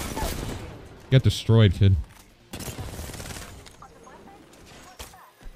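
Gunfire rattles during an Apex Legends match, with bursts of shots mixed with in-game effects while a player's voice and other game voices talk over the action.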